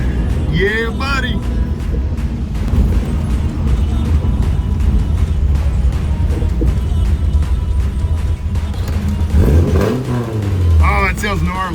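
A Suzuki Samurai fitted with a swapped 1.6L 16V engine runs loud and close, its rough, gnarly drone rising and revving steadily throughout, while a voice talks over it near the start and again near the end.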